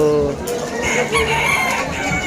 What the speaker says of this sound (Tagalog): Dito naman yung mga manok. Yan, mga manok.